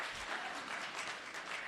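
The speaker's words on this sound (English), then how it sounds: "You can applaud me now if you want." Applause from the audience at a Valparaiso mayoral debate, a brief even patter of many hands clapping at moderate distance, steady throughout.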